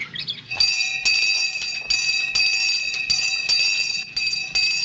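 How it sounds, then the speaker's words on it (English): A bath bell at a poor farm rings loud and bright in a fast, steady series of about ten strikes, each with a lingering metallic tone. "That's the bath bell."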